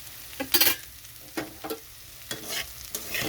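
Capsicum, potato and onion frying in a pan over raised heat, with soft bursts of sizzle and a few scraping stirs spaced irregularly, close and fairly quiet, no voices.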